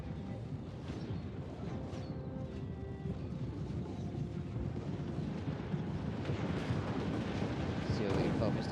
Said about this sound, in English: Mortars are doing alright.